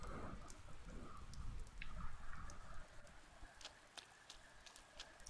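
Rain on a dark rainy night in the video game Persona 4 Golden, soft and fairly faint, with scattered sharp drips and taps over a low wash of rainfall and no talking.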